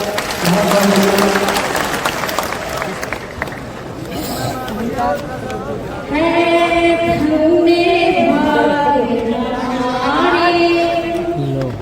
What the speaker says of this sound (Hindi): स्वर्णलता साहब जी के लिए ताली बजाकर